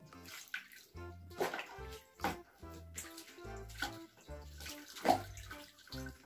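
Water pours steadily from a tap into a tub while bathing a baby doll, a continuous splashing rush with some tonal sound mixed in around it.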